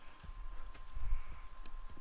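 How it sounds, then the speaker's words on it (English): Horse hooves clip-clop at a walking pace in the video game Red Dead Redemption, soft and fairly quiet, with a few irregular thuds over a low background. "Go check the horses are ready."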